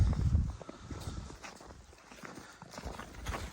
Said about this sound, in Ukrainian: Груба, моцна кобила, широка.